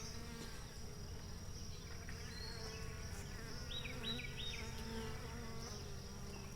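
Honey bees buzz softly around a caged queen inside a hive, a faint continuous hum with a few brief higher wingbeat whines rising over it, no voices.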